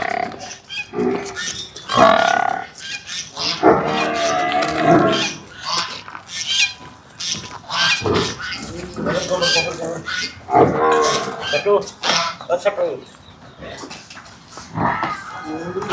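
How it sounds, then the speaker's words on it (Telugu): Freshly arrived Murrah buffaloes from Haryana low and grunt at a dairy farm in loud, repeated bellows, mixed with people talking nearby. "ఇంకో గేదె, ఇది మూడో గేదె."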